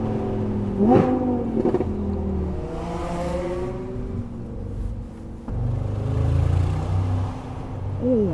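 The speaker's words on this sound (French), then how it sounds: "Oh, le V8, on l'a bien entendu là" A V8 car engine revs and accelerates up through the gears on a winding Swiss road, loud and close, with rising and falling pitch sweeps and a brief lull before pulling hard again.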